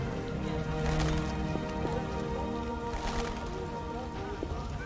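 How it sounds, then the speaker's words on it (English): Rain falls steadily in The Witcher video game, a continuous hiss of drops on surfaces at moderate level, with a few brief surges and no speech over it. "It's raining."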